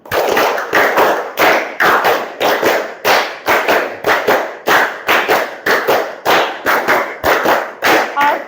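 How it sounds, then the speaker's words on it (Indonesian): A group of people claps hands in a rhythmic classroom pattern, repeated sharp claps in quick counted bursts at close range with an even beat, loud and clear, nearly continuous across the span. "Tepuk 1, tepuk 2, tepuk 3, tepuk 4,"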